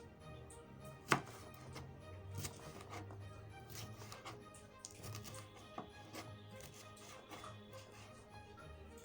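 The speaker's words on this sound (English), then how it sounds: "Okay, so I'm slicing mine like this." Knife slicing food on a board, heard as quiet, close taps at irregular intervals with one sharper hit near the start, set against a faint background hum.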